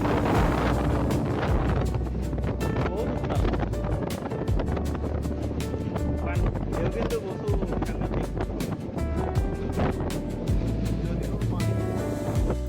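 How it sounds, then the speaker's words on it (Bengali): Strong wind over the Arabian Sea off Al Khobar, Saudi Arabia, buffets the microphone in a steady roar, with a boat engine droning underneath and a person talking over it. "বাতাস প্রচণ্ড বাতাসের ভিতর"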